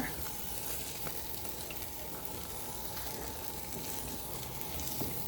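Beans in guajillo sauce sizzling in a pan for bean tacos, a soft continuous bubbling fry with light stirring scrapes, close but quiet, with no voices.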